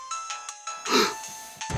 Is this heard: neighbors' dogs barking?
no